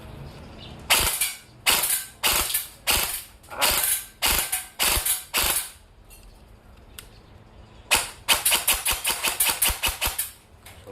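An upgraded Predator Gen 4 blaster fires on full auto in rapid bursts of sharp mechanical cracks. A first volley of about ten shots is followed by a pause, then a faster, tighter string of shots, all loud and close.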